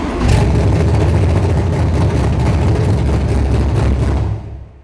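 A Ford Maverick with a 302 V8 started on the key alone and settling into a steady idle: a loud, continuous low engine rumble close by for several seconds, then cut off abruptly near the end.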